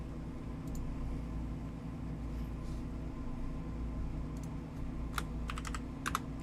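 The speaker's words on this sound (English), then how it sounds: "I don't know why I'm still typing." Steady typing on a computer keyboard, soft key clatter running continuously with a few sharper, louder clusters of keystrokes near the end, over a low background hum.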